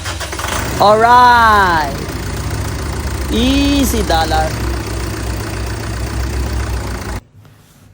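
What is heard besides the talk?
engine starting and idling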